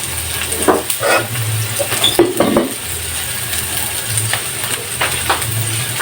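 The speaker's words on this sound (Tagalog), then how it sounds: "Hintayin natin na mapula yung ating sibuyas at saka bawang." Onion and garlic sautéing in a pan for ginisang gulay, a low sizzle under intermittent metallic clinks and scrapes of a utensil stirring against the pan.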